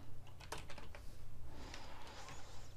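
Rapid clicking of a computer keyboard being typed on, a quick burst followed by softer scattered keystrokes over a low steady hum.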